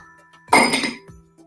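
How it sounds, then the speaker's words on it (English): Three ice cubes drop into a tumbler glass in one loud, close clatter of clinks, followed by a fainter settling tick a moment later. "Start by putting 3 ice cubes into a tumbler glass."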